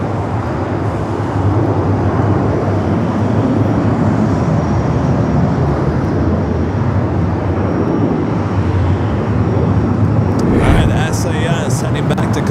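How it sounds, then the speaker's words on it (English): An Airbus A330-300 airliner rolls toward runway 24 left at LAX, heard as a steady, loud low jet rumble at a distance, with a brief crackling burst near the end. "Heading back to Copenhagen, A330-300, rolling down to 24 left, flight 932."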